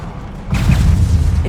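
Half a second of quiet gives way to a sudden low boom from a Confringo spell in Hogwarts Legacy, with a deep rumbling burst that holds strong to the end.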